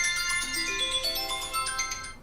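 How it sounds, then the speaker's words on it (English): A phone plays a melodic ringtone, a bright tuneful chime of rising, stepping notes that sound loud and clear with no talking. "My phone keeps making noises"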